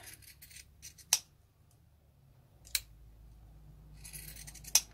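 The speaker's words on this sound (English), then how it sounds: "I generally use my pinking shears for that, and I just trim it up so it's even with the zipper tape" Pinking shears snip three times through zipper tape, crisp and close, with soft rustling of material between cuts.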